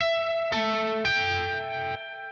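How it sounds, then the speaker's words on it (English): Clean electric guitar run through chorus into a hall reverb: three sustained shimmering chords ring out in sequence, each leaving a lush, spacious tail, with no voices. "This is going into a hall reverb"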